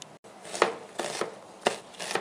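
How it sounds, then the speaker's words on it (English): Knife rough chopping onion on a board, four crisp evenly spaced chops up close with no talking. "Rough chop a couple times like so."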